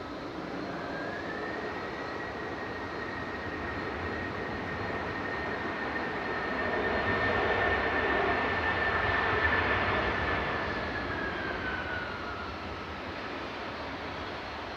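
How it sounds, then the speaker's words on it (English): An Aer Lingus UK Airbus A330-300, a 14-year-old widebody arriving from Orlando, passes over the runway threshold at Manchester Airport, its steady engine roar with a whining tone swelling as it nears, peaking, then easing off. "Aer Lingus UK coming over the threshold here now, arriving from Orlando"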